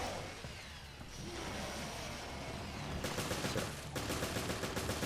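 Resident Evil Revelations machine gun fire in Raid Mode: fast, rhythmic automatic bursts, fairly close and loud, growing denser toward the end, with no speech.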